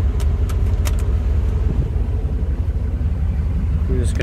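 2006 Ford F-350 King Ranch with a 6.0L Powerstroke diesel warming up, a loud, close, steady low rumbling idle that continues under light background noise and a few clicks.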